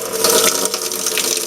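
Water sprays steadily from a Moen faucet into a sink, a loud, continuous hissing splash lasting the whole moment.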